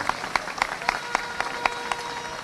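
Sparse clapping from an audience gathered for a Venezuelan political address, with a few louder individual claps standing out in an irregular rhythm over steady room noise and no voices.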